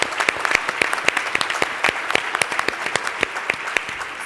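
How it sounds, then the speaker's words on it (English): Audience applause at an impact investing conference plenary, a steady stream of crisp claps from a modest crowd lasting several seconds at moderate loudness. "can we give her a round of applause?"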